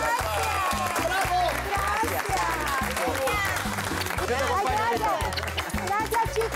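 A studio audience applauds and cheers in farewell to Ana Koller on a celebrity cooking competition, the clapping loud and continuous over thumping background music, with voices calling out over it.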